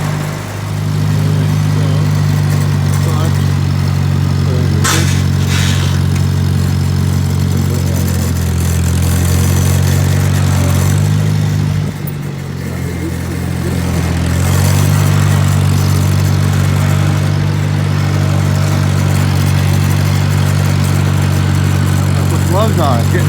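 Diesel engine idling after a cold start in the snow, a loud, steady low chugging drone that dips briefly and then recovers, with someone talking over it at times.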